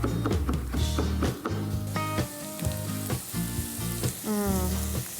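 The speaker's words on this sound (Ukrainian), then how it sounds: "Дуже-дуже дрібно наріжу його і обсмажу" Loud, steady sizzling of finely chopped mushrooms frying in a hot pan up close, with intermittent clinks and a faint tonal hum over the crackle.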